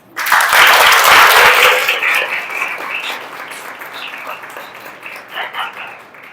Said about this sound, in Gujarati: જોરથી તાળીઓ પાડો